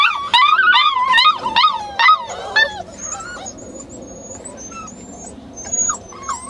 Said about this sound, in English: These are kind of in between barks and bays.